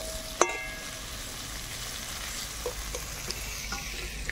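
Vegetables frying in a pan give a steady, close sizzle, with one sharp metallic clink at the start and a few soft taps of stirring after it.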